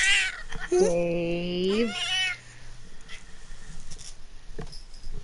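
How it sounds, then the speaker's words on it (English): A cat meows in the video game Persona 5 Royal: one long, rising and falling, whiny meow, loud and close. A voice speaks briefly around it. "Are you not getting enough attention, cat?"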